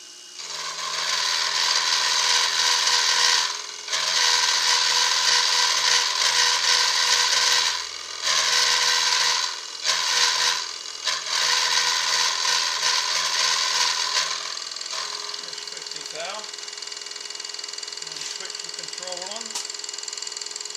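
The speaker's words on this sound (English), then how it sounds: "So I'll start the machine up now, and I'll put a 50 thou cut on" A Lime hand shaper machine runs while cutting metal, giving a loud, continuous grinding rasp broken by brief regular gaps at each stroke, before the cutting noise eases into a quieter mechanical hum with someone talking over it.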